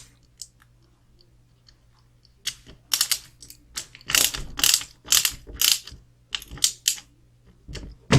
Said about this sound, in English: Now we can tighten this side down.